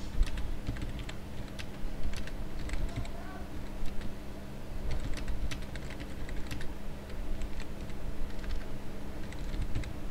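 Fingers type on a computer keyboard while text is entered into a Word document, a continuous stream of quick light key clicks in uneven bursts over a low background hum.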